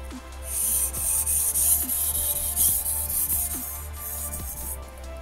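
A Japanese gyuto kitchen knife is stroked back and forth across a whetstone, close, rhythmic hissy scraping in steady repeated passes with no talk.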